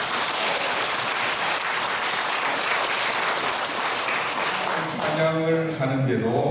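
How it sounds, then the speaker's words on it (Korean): Church congregation applauds the elderly members of the men's fellowship, a dense, sustained roar of clapping that ends as a voice begins speaking near the close. "우리 작년 남성교회 어르신들 우리 박수 한번 더 합시다."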